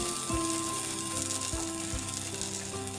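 Garlic and onion sautéing in oil for vegetable Manchurian, a steady bright sizzle and crackle over a low kitchen hum, with occasional soft utensil knocks.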